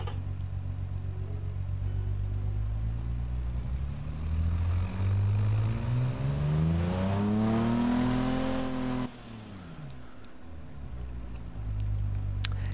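A 2.2-litre engine in the car-building game Automation revs steadily upward, pitch climbing over several seconds before cutting off abruptly, then idling quietly and revving briefly again; loud and close, no talk.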